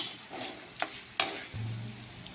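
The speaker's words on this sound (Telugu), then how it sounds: "కొంచెం పసుపు వేసుకోవాలి వేసుకొని ఒకసారి కలుపుకోవాలండి" Turmeric is stirred into a spinach rice mixture cooking in a pan: two or three quick scraping strokes over a soft sizzle, followed by a low steady hum, with no talking.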